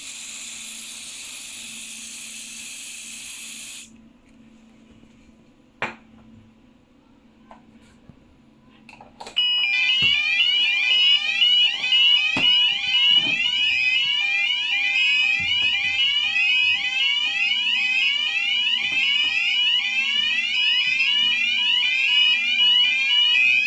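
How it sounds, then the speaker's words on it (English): A Fike smoke detector sets off a loud, continuous electronic fire alarm during a system test; after a brief hiss and a few quiet clicks, the shrill repeating whoop starts and keeps sounding steadily. "we're just going to quickly test this smoke detector."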